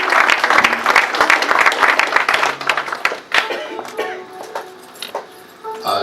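A church congregation applauding and cheering for the Lord, loud clapping that fades over a few seconds, with voices mixed in.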